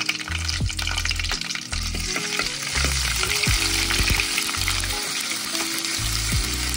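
Loud sizzling and spattering of crushed garlic and curry leaves frying in hot oil, with intermittent stirring and scraping sounds close by.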